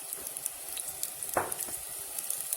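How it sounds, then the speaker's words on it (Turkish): Flour and salt roasting in a pan for soup give a soft, steady dry sizzle, with a few light scrapes of stirring and one louder scrape midway, and no speech. "Şimdi bu iyice kavrulsun."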